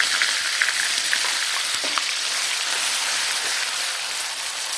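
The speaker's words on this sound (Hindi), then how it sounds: "मैंने यहाँ पर सभी मसालों का छौंक लगा दिया है और अब हमें डालना है प्याज" Two medium onions, coarsely ground, hit a hot spice tempering in a kadhai while cooking dal, giving a loud, steady, crackling sizzle that carries on evenly without any voices.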